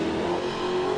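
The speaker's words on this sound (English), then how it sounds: "Rawlings right there, cooking those tires, heating them up" A wide-body Dodge Hellcat on drag radials roars through a burnout, its engine held at a steady high-pitched rev for a brief, loud, unbroken burst.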